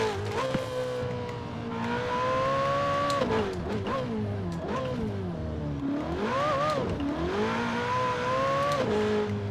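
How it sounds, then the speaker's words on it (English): A Ferrari 488 Pista engine in Forza Horizon 4 revs up and down repeatedly, its pitch rising and falling in loud, smooth sweeps with no talk. "the engine just sounds sweeter and sweeter the higher RPM"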